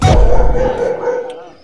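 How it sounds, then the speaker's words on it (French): A dog gives a single loud, close bark that trails into a short whine, with no one talking over it. "C'est le chien."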